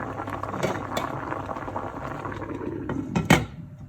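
A covered pot of rabbit stew bubbles at a steady simmer, a continuous close burble with a louder clink of the pot or lid near the end.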